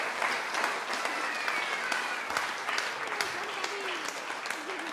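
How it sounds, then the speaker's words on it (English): A church congregation at a Sunday service claps in warm, continuous applause, with a few voices audible under the clapping. "Let's give him a round of applause."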